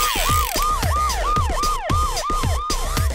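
Police car siren wailing in a fast, steady up-and-down pattern, loud and continuous with about eight even cycles, heard alone without talk.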